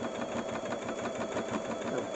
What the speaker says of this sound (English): just slowly turn your work as you're sewing